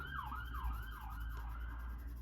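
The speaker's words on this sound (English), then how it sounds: "Ambulance." Ambulance siren passing outside, a wailing tone sweeping up and down in steady cycles, fairly faint and distant over low traffic hum.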